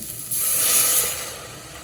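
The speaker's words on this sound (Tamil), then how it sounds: "இப்போ வந்து தண்ணியை விடுவோம்" Water pours into a cooking pan for lemon rasam, giving a brief, loud splashing hiss that rises sharply and then fades as the pour ends.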